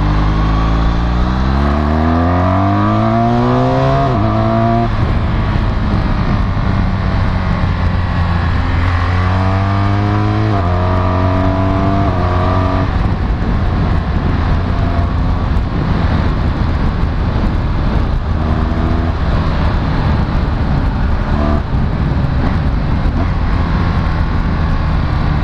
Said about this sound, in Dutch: Verder zit er ook onder deze motor echt prima, prima geluid.